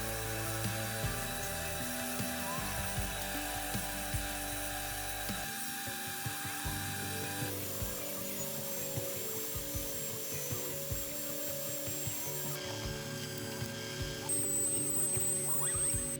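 Power tool whining as it cuts a plywood board to shape for a handmade wooden chopper bike, a steady close drone that shifts in pitch several times as the cut progresses.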